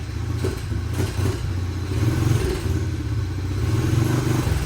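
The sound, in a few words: dirt bike engine kick-started and running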